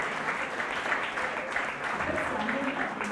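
An audience applauds steadily through a live talk event, with continuous dense clapping at moderate volume and voices mixed in.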